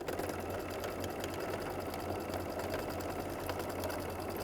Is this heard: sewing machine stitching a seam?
yes